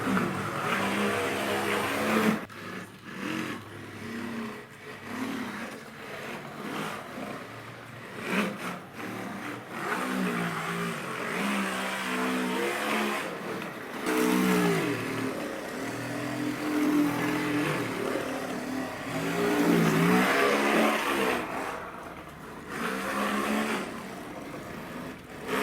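A DriftArt 2.6 EX RC drift car drives with a buzzy electric motor whine that rises and falls in repeated bursts of acceleration, steady and moderately loud throughout with no talking.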